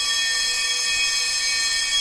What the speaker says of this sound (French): l'alarme incendie hurle dans toute la salle